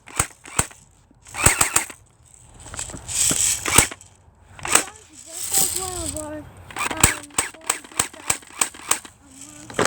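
An airsoft gun fires a string of sharp, snappy pops at close range, some in quick bursts and others spaced apart, while people talk and laugh over the shots.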